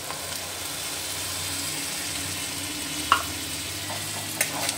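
Whisked yogurt with black pepper meets frying spices in a pan, giving a soft, even sizzle throughout, close and steady, broken by a couple of faint spoon clicks.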